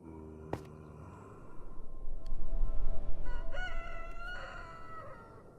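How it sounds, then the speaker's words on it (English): Rooster crowing at dawn in a survival building video game, one long drawn-out cock-a-doodle-doo rising and falling over a soft background hum, with no talk. "There's our rooster crow"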